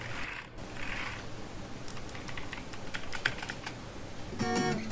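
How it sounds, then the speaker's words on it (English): Typing on a blue-switch mechanical keyboard, a run of sharp, fairly loud clicky keystrokes in irregular bursts, close to the microphone, with no talking over it. "since it's a blue switch mechanical keyboard, the typing is quite loud"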